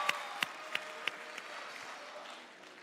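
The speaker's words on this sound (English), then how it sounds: "Greg, round of applause." Audience applause during a quiz session, a few distinct sharp claps standing out over a soft, thin wash of clapping that fades toward the end.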